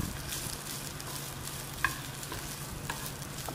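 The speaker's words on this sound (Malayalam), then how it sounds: "അപ്പോൾ നമ്മൾ തേങ്ങയും കൂട്ടി ഇട്ടിട്ട് ഒന്നും കൂടി വറുത്തെടുക്കാം" Jackfruit seeds and grated coconut dry-roast in a pan over low flame, giving a faint, steady scraping stir with a couple of small clicks from the spatula, quiet throughout.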